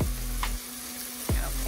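Maggi noodles frying in a pan give a steady, close sizzle, with a couple of sharp stirring or scraping sweeps and a brief higher clink near the start.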